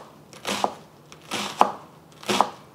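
Three crisp knife chops through green onions on a cutting board, evenly spaced about a second apart, close and distinct against a quiet background.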